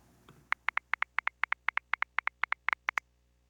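Programmed drum beat in Ableton with an MPC 3000 16th swing groove applied: a crisp run of evenly spaced hits with a slight shuffle and a quick double hit near the end, played alone with no talk.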